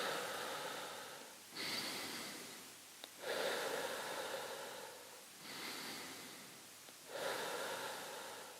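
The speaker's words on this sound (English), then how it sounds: "So we breathe in, breathe out, in," Slow, deliberate breathing during a mindfulness exercise, close and airy, with alternating inhales and exhales in long even swells and short pauses between, no speech.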